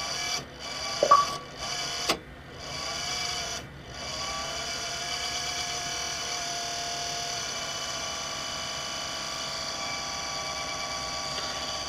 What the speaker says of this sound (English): There's one annoying little fan.